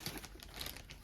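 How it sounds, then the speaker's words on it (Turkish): A product is pulled out of a plastic shipping bag, with close, crisp crinkling and rustling of thin plastic throughout the second, broken by brief sharp crackles. "Evet arkadaşlar ürünü kargo poşetinden şu şekilde kurtarıyoruz."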